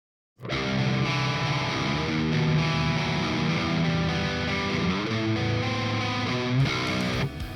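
Distorted electric guitar chords through an Overloud TH-U amp simulation with a drive pedal ring out continuously, loud and sustained, with a couple of chord changes and no voices.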